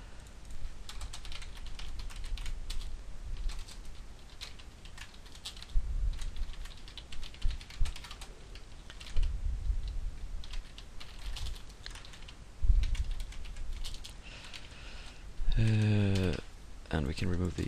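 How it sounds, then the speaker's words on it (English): Code is typed on a computer keyboard, close irregular bursts of key clicks with pauses between, joined near the end by someone talking. "So we'll type them within this scope here."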